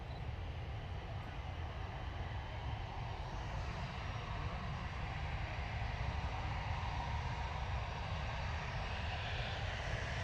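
Steady broadband roar of an EasyJet Airbus A320 jet at Manchester Airport, a continuous distant engine rumble that swells slightly toward the end with no talk over it.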